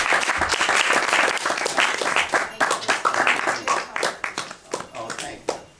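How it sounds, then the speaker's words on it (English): A congregation at a Christmas community service applauds a poet and speaker. Full, dense applause thins out toward the end into scattered individual claps. "let's give a nice round of applause for the wonderful poet and speaker"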